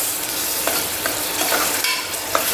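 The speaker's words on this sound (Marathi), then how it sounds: "आता आपण आलं लसूणची पेस्ट घालणार आहोत ह्यात मी जरा लसणाचं प्रमाण जास्त घेतलं आहे आता ते सुद्धा व्यवस्थित परतूया आपण" Ginger garlic paste and onion sauté in a pan for a mutton curry, a loud, close, continuous sizzle with a few quick scrapes of a spatula.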